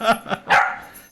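A pet dog, a female, barks at close range: three quick sharp barks, then a longer, louder one that trails off in a whine.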